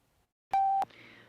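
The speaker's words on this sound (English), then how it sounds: "The National Research Council official time signal." A single clean electronic beep, the National Research Council official time signal, holds at one steady pitch for about a third of a second, loud and alone, then cuts to faint room noise.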